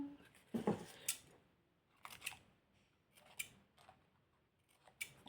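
Scissors snip in short, crisp bursts, a few separate cuts spaced over several seconds, close and fairly quiet with no talking.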